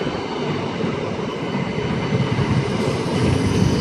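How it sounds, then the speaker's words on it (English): A British Rail Class 319 electric train in old livery passes on the Liverpool and Manchester line at Huyton, a loud close steady rumble of wheels and motors that builds slightly toward the end, with no talk. "We've got an old liveried 319."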